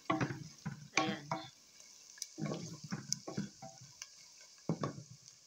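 Minced garlic sizzles in a pan for beef curry, with bursts of frying and stirring scrapes coming in uneven clusters, fairly quiet and close.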